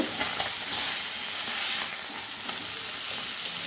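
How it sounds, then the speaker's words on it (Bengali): Whole koi fish sizzle loudly in a pan of hot oil, an unbroken, close, dense crackle of frying throughout with no talking. "এবারে মাছগুলো ভাজা হতে আর কিছুক্ষণ সময় অপেক্ষা করব"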